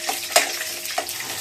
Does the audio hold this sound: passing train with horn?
no